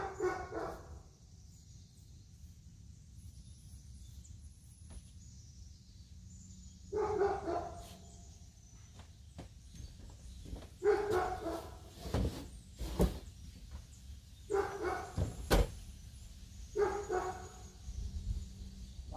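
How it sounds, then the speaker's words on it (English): A dog barks in short separated bursts, a few sharp barks at a time with quiet gaps between, heard from a moderate distance indoors with no talk. "My dog's barking."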